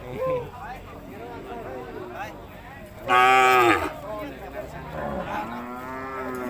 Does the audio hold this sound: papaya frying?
no